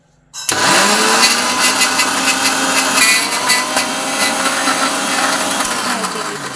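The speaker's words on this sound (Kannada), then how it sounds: "ಇದನ್ನ ಎರಡೂ ಮಿಕ್ಸ್ ಆಗೋತಾರೆ ಚಲೋ ಸ್ವಲ್ಪ ಮಿಕ್ಸಿ ಮಾಡಿಕೊಂಡು" A kitchen mixer grinder blends roasted peanuts with jaggery, starting abruptly into a loud, close motor whine and rough grinding roar that holds steady with slight fluctuations, with no one talking.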